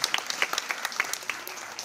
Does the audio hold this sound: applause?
yes